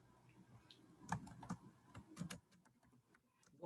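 Quiet computer keyboard keys tapped while someone types code, irregular light clicks spaced a few per second, close and soft in a calm room.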